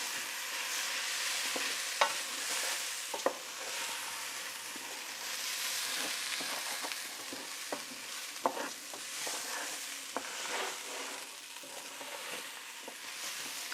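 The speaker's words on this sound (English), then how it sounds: "I'm going to stir that up really well, make sure everything gets well coated with the spices." Spices and rice-and-lentil khichri are stirred in a hot pan, a soft steady sizzle broken by repeated clear scraping clicks of the spoon against the pan.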